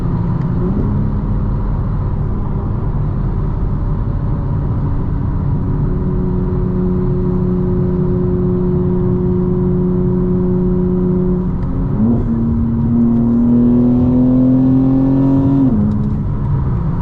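A 2025 BMW M4 engine drones steadily from inside the cabin while driving, its tone holding level, then dipping and climbing again as it revs up toward the end.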